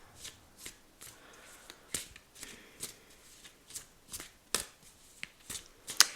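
Tarot cards are shuffled by hand in a quiet room, giving a steady series of soft riffling swishes roughly every half second, close and fairly faint.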